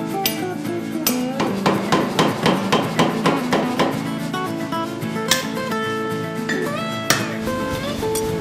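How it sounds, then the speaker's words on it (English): A blacksmith's hammer rings on hot iron as an axe head is forged in a blacksmith shop, a rapid run of bright metallic blows that slows into scattered heavier strikes, loud and close, with no talk. "hammering iron."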